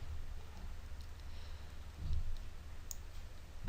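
A computer mouse gives a few faint, sparse clicks over a low steady hum, with a slightly louder knock at the very end.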